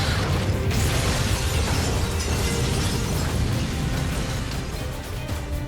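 Loud, dense broadband roar from a car bomb blast in Moscow fills the whole span, a sustained rumbling burst with crackling debris that eases only slightly toward the end, with no voices.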